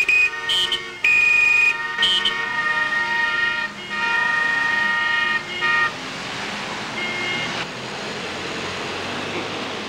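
Car horns honk repeatedly in traffic, a string of short and held toots overlapping in uneven bursts over a steady road hum, then fading into a dull rushing wash.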